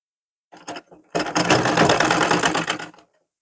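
A sewing machine stitches a suit, with a short burst and then a steady, rapid mechanical whirr of needle strokes for about two seconds, close and loud, with no talking over it.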